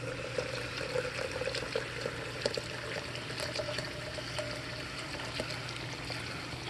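Water poured into potted plant containers until it covers the soil, a steady trickling pour with no pauses, close and moderately soft.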